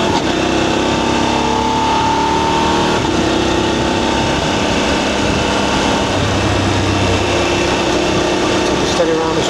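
VOGE DSX 900 motorcycle with the throttle opened, a loud continuous engine drone heard up close over strong wind noise throughout.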